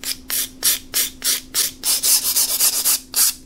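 Hand file from a Project Source 23-piece set rasping across stainless steel, about a dozen quick rhythmic strokes close up, each a harsh scraping burst with short pauses between.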